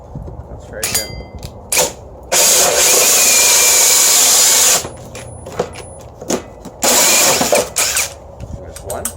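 Two loud bursts of a power drill boring into wood, each a couple of seconds long, with clicks and handling knocks between them.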